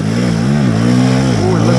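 A dirt bike engine revving hard under heavy throttle on an off-road riding track, a loud close drone that rises and falls in pitch in quick surges.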